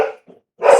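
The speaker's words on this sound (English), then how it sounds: "Oh, cool. Now they're barking." Dogs bark in two bursts, a close bark, a short gap with a faint yip, then a louder, longer bark.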